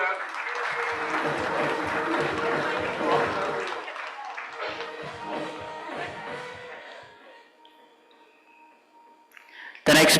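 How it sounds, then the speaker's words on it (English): Audience applause at a legal awards ceremony, a strong burst of clapping that gradually thins and fades out, ending in a brief loud cut near the end. "Give Amit a bigger round of applause."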